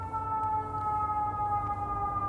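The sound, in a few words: siren in the background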